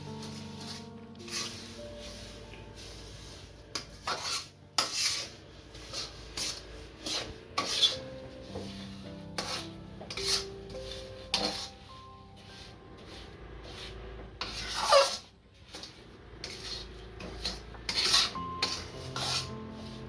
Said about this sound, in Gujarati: આમાં હવે શેકેલા તલ નાખી દઈશું અને હલાવી નાખશું।